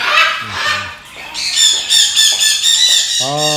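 Birds, including parrots and macaws, squawk loudly and close by in a run of harsh calls at a Dubai bird market, with a few lower honking notes mixed in.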